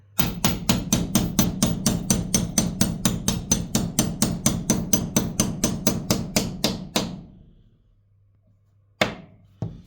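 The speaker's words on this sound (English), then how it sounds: "you can do that just by tapping it in with a hammer" Rapid, even hammer blows tapping a wooden fireplace mantel into place, about twenty-five strikes in a steady rhythm, then a pause and one final knock.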